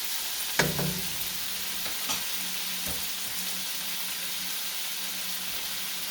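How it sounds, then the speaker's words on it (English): Chicken pieces sizzle and brown in hot oil in a pan for a Chinese chicken with onions and oyster sauce dish, with a steady crackling fry and a few louder stirring clatters near the start, heard alone at close range. "I'm just going to let the chicken brown up a little bit for a second."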